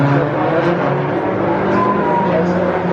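Renault 5 GT Turbo and Peugeot 206 GTi race cars climbing Woodham's Hill at Thruxton, a loud, dense blend of several engines revving and passing close by, with faint tyre noise and a commentator's voice in the background.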